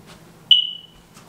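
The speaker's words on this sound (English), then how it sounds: "if y'all hear the little beep thing from the fire alarm" A single high-pitched electronic chirp from a smoke alarm with a low battery cuts through a quiet room, then fades over about half a second.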